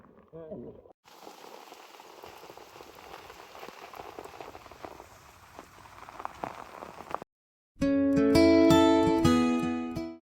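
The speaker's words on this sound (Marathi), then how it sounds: "काल संध्याकाळपासून पाऊस येतोय तर आजपर्यंत थांबलंच नाही" Steady rain falls on a paddy field in a continuous hissing patter for several seconds, then cuts to a short stretch of loud, bright tonal music.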